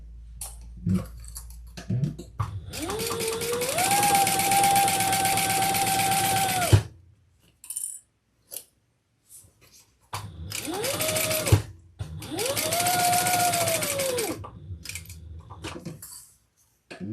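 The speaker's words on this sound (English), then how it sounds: "we're going to sew around that facing" A sewing machine stitches around the facing of a leather wristlet crossbody bag, running in two loud sustained bursts of motor whir with a short stop and a few clicks between them.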